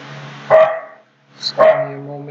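A dog indoors gives two loud, close barks about a second apart, each sharp and then fading over a low background hum.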